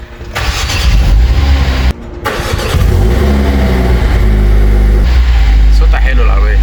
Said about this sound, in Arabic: شوف بقى اللوتس امير الاربعة سلندر، تعال نشوف صوتها عامل ازاي